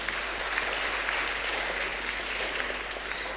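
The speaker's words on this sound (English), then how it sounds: "Let's clap for them once again." Steady audience applause at the semi-final of a national public speaking competition, a dense even wash of many hands clapping that holds at the same level for the whole stretch without any voices.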